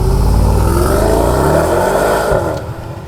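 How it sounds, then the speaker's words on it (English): Mercedes-AMG GT 63 four-door V8 engine rumbles loudly close by with a deep thundery tone, the revs swelling then easing off as the sound drops away near the end. "the large starter button on the AMG drive unit console and it bellows into life with a thundery rumble"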